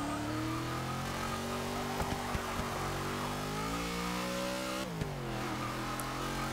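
A 1966 Ford Country Squire's V8 in Forza 6 holds a droning rev that climbs gradually, dips sharply as a gear changes, then settles back into a steady hum.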